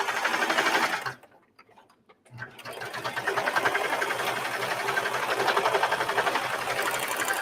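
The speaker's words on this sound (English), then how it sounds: "we'll sew down that back side of the facing" Sewing machine stitching the facing of a Christmas dress, a fast steady mechanical whir with a rapid ticking beat that stops for about a second, then resumes and runs evenly, close and loud, no voices.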